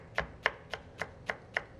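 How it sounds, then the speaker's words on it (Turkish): A knife finely chops ingredients for ezogelin soup on a cutting board, with seven crisp, evenly spaced chops at a brisk pace and nothing else heard. "Ufak ufak şöyle bir doğrayalım."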